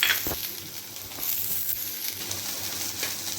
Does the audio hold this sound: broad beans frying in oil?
yes